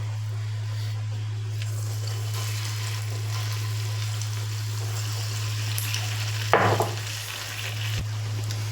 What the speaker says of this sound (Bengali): ফুলগুলো যখন ভাজবেন এরকম ডুবো তেলেই ভাজা হবে।